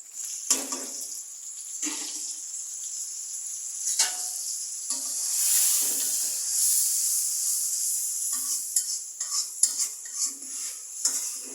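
Green chilies frying in oil with onion, cumin, nigella seeds, salt, turmeric, chili and coriander, a steady hissing sizzle under intermittent scrapes and clinks of a utensil against the pan, close up with no talk.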